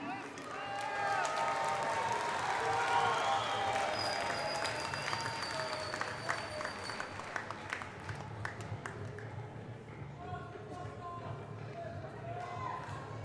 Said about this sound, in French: Allez, veuillez l'applaudir encore une fois.